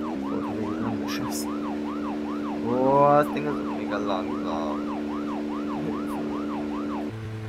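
Wailing vehicle siren in the video game Deadly Premonition, a rapid repeating up-down yelp cycling evenly over a steady engine drone, loud and continuous, with someone talking over it briefly.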